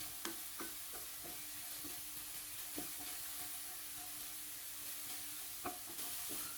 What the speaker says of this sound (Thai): ใส่น้ำมันลงไปเล็กน้อย แล้วก็ใส่พริกกระเทียมที่โขกแล้วเนี่ยลงไปเลยครับ ผัดให้เหลืองหอมเลยนะครับ